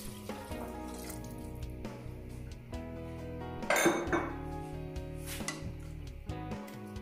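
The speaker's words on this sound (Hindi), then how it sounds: "अब इसके अंदर मैं शामिल करने जा रही हूँ 2 कप गर्म पानी।" Two cups of hot water are poured into a pot of chicken soup amid metallic clinks of pots and utensils, with a brief louder splashing rush midway and steady kitchen clatter around it.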